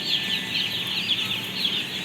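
A crowd of day-old broiler chicks in a brooding house chirps constantly, high overlapping peeps forming a dense, continuous chatter close by, with no voices.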